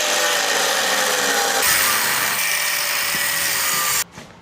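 A loud, steady power tool cuts through wood in a shop, making a continuous rasping whine that shifts pitch partway through and then stops abruptly, followed by a short tail of faint noise.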